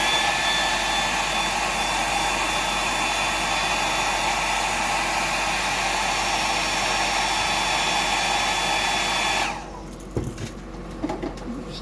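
A hair dryer blows steadily to dry paint on a freshwater fishing lure, a loud, constant broadband whoosh that cuts off near the end, leaving a few faint knocks and rustles.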